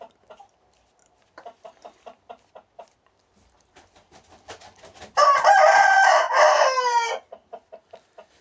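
A rooster crows loudly and close, one long drawn-out call, preceded and followed by a series of short rhythmic clucks.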